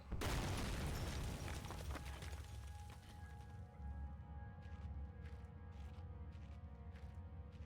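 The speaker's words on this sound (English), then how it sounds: "Dog's not coming to investigate the huge explosion?" A large explosion in the horror video game Penumbra: Overture: a sudden heavy boom with a rumbling, crackling tail that slowly fades into low debris noise and a few faint clicks.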